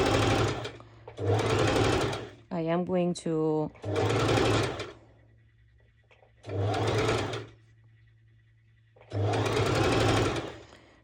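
Sewing machine running a long basting stitch on two layers of fabric for lettuce-edge bottoms, loud close bursts of motor whir in several runs separated by pauses, with a brief stretch of talking between them.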